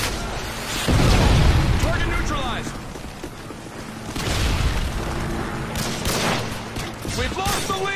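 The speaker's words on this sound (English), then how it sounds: "Rebel predator missile incoming." A predator missile explodes in a Call of Duty Modern Warfare 2 team deathmatch, a heavy rumbling boom that swells and lingers, with a second surge later amid gunfire clatter and game voices.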